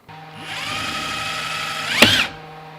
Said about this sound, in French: Dès qu'on vient percer, ça fait ça.